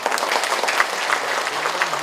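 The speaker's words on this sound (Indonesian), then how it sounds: "mari kita sesama untuk bisa memberikan aplaus kepada" Sustained audience applause at a public service innovation workshop in Bandung, a dense steady clatter of many hands clapping filling the room for about two seconds.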